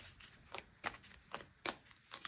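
A deck of oracle cards being shuffled by hand, with repeated crisp riffling bursts at a steady rhythm, close and fairly quiet, no talking.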